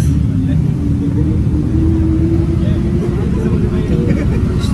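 A bus rumbles along a road with a steady, loud, low engine drone and some faint tonal whine, while voices murmur indistinctly in the background throughout.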